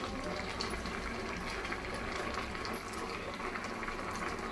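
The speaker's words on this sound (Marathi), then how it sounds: "आणखीन 2 ते 3 मिनिटांसाठी हे कॉर्नचे दाणे आपण शिजवून घेऊयात।" Corn kernels boiling in a pot of water, a faint, steady bubbling churn that holds evenly throughout, heard up close with no talk.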